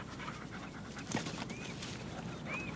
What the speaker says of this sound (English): Good doggy.